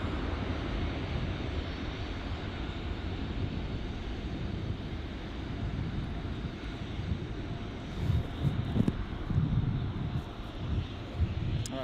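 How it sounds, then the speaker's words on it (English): A Virgin Boeing 737 holds on runway 14 at Gold Coast Airport, its jet engines giving a steady, broad rumble heard from a distance, with a few faint knocks near the end. "now we've got our Virgin 737 lining up and holding on the runway at runway 14 here"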